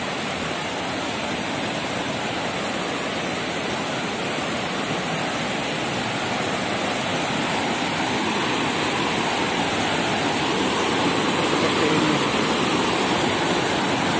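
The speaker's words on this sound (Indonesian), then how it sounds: "Ada air terjun." A powerful forest waterfall roars continuously, a dense, even rush of crashing water with no pauses.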